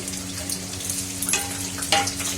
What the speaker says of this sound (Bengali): এই যে ভেজে তুলে নিই। অনেকটা পনির হয়ে গেছে।